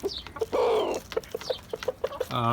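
Chickens on a rooftop garden cluck close by in a series of short, repeated clucks, with a longer drawn-out call near the start and another at the end.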